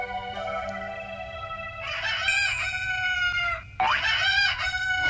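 A rooster crows twice in the early morning at sunrise, with long, loud, clear calls separated by a short gap, over faint clucking and a soft ambient background in a cartoon farm setting.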